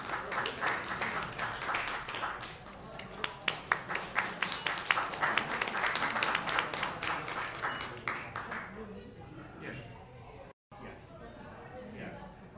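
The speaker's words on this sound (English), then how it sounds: "Let's give him another round of applause" Audience applause for CEO John Lam at a Manhattan investment forum and reception, a dense spread of claps from a room of people with chatter mixed in, fading toward the end.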